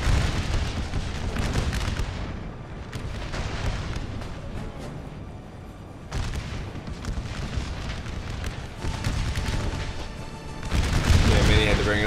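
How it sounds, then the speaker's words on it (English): Battle in the woods in a Napoleon: Total War American Civil War game: dense, continuous rolling musket volleys and booming artillery, with a heavier surge near the end and a voice talking over it. "Still an intense shooting battle in these woods."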